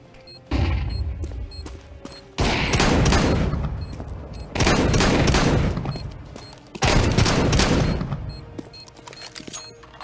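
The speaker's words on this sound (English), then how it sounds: "Deploying flashbang" A flashbang grenade and rifle gunfire in a Counter-Strike-style bomb-defusal round: three loud, sudden bursts of rapid shots and blasts, each decaying over a second or two, separated by quieter gaps.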